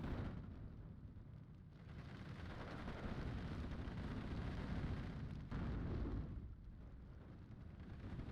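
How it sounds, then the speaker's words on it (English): Artillery strikes rain down in a WW2 real-time tactics game, a dense, continuous roar of rumbling blasts and heavy booms, with a sudden new impact partway through. "More artillery strikes here."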